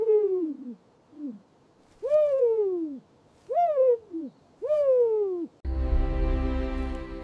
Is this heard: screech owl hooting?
yes